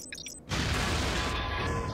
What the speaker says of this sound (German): die Explosion war jetzt nicht mega brutal